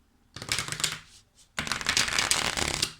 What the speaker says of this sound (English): I usually shuffle the cards 3 times